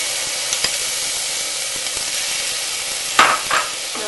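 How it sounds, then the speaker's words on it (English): Onion paste and chili coriander paste are stir-fried in a pan for a pomfret fish dish. A dense, steady sizzle carries a few light stirring knocks, then a louder hissing burst near the end. "Stir fry for 2 minutes."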